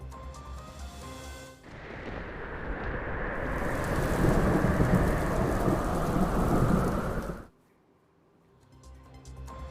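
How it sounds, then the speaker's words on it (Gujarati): A heavy downpour from a deep-depression storm over the sea roars steadily with deep rumbling, swelling loud for several seconds before cutting off into quieter rainfall. "ત્યારે જુઓ આખરે દરિયામાં કેવી રીતે આગળ વધી રહ્યું છે તોફાન"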